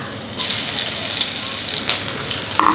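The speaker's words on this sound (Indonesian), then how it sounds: "Tumis ini sampai wangi." Chilies, garlic and shallots sauté in hot oil for an egg stew, making a loud, steady crackling sizzle with brief clinks and stirring sounds near the end.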